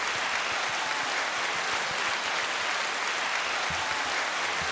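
Applause sound effect played during a podcast, a steady bed of many hands clapping at moderate level with no talking over it, holding evenly from start to finish.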